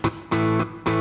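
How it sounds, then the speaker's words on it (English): Clean electric guitar pattern from BlueARP guitar mode: a few bright plucked chord stabs with short sustains, close and clear, no talking. "clean guitar version sounds like this"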